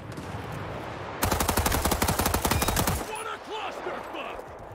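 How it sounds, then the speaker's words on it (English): Rapid automatic gunfire in a multiplayer shooter match, a dense burst of rattling shots lasting about two seconds over steady battlefield ambience, followed by quieter chirps and distant game sounds. "I hear a lot of gunfire right here."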